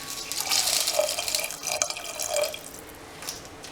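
Water splashes and trickles into a cooking pot for a Tamil-style kootu with yam and chana dal, a short close pour that swells and fades over a few seconds.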